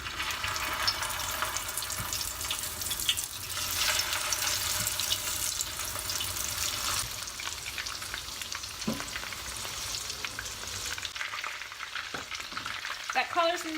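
Chicken fingers frying in hot oil, a steady crackling sizzle with bubbling that runs throughout, close and moderately loud, with occasional kitchen clinks and no talking.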